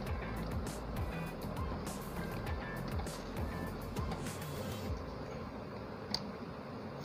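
A Janome J 639 sewing machine runs fast and steady, stitching a picot edge with a continuous mechanical whir and rapid ticking, fairly quiet with no talk.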